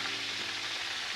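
Thai shrimp and pork cakes sizzle steadily in hot oil, a dense, even crackle with no talk over it.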